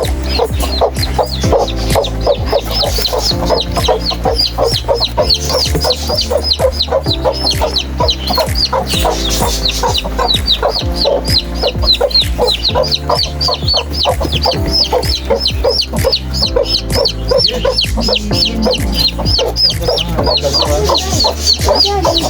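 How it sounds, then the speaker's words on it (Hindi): Chickens cluck continuously over a steady, loud throbbing hum, the calls repeating in a busy stream throughout. "वो मुर्गी तो अंदर ही बैठी हुई है।"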